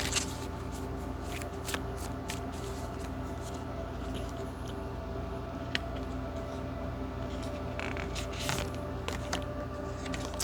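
A deck of oracle cards being shuffled by hand, a steady papery riffle and slide that runs throughout at a low level, with a few sharper card snaps standing out.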